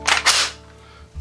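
A Tavor rifle's action is closed with a steel magazine inserted: two sharp, close metallic clacks in quick succession, followed by a brief low resonant tail.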